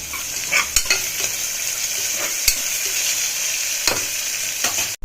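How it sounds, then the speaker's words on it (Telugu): Onions with a little rock salt fry in a pan for a ridge gourd curry while a utensil stirs them. A steady sizzle runs throughout, broken by occasional sharp scrapes and taps, and no one speaks. "కొద్దిగా ఆనియన్స్ వేసుకున్న తర్వాత వేయించుకోవాలి."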